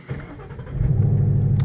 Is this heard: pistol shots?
no